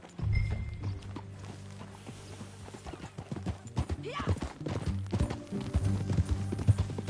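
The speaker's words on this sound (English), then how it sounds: "That a new horse?" Horse hooves clip-clop steadily through Red Dead Redemption 2, a ridden horse walking in a rhythmic stream of near, moderately loud hoofbeats, with a brief whinny and short bits of talk over the top.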